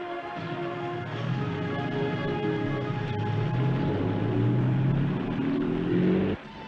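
A car engine revs and pulls away in the rain in a 1945 crime film, a steady rising motor roar that cuts off sharply at the end.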